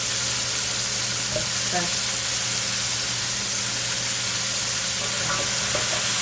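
Vegetables sizzling in olive oil in a pan, a loud, constant frying hiss with light scraping and stirring; a voice speaks briefly.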